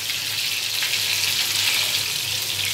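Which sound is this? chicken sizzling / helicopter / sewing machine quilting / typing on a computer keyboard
chicken sizzling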